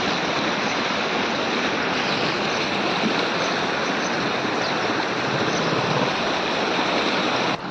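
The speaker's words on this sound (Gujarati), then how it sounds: "જોઈ રહ્યા છો પાણી નીકળી રહ્યું છે ધારમાંથી" Water pouring from a spout at the Sandhida Mahadev temple, a loud, steady rushing gush filling the whole stretch without a break, no voices over it.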